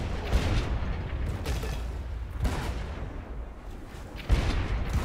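Ship's mortar firing in Blazing Sails, heavy booming discharges at irregular intervals with rumbling low-end blasts over a constant background of naval battle noise.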